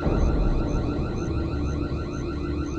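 Entrance alarm in a house going off in a horror-story scene: a steady, loud electronic warbling siren with repeating sweeping tones, continuous for the whole stretch over a low rumble, no voices.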